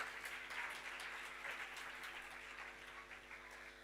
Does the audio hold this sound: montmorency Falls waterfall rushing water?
no